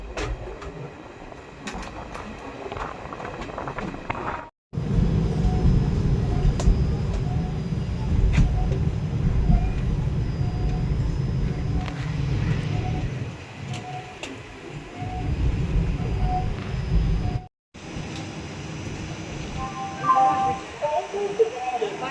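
A simulated Indian Railways train, the Repalle to Secunderabad Express in Indian Train Simulator, rolls into platform 1 at Nadipudi station. It gives a steady, loud rumble and clatter of wagons, with two brief cuts to silence.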